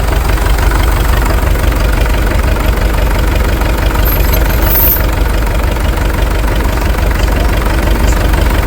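An International TD-6 tractor engine with a misfire runs loud and close, a dense continuous diesel rumble with a rough, knocking texture and no pauses.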